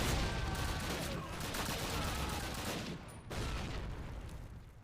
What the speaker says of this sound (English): Let's do with some good old grenade spam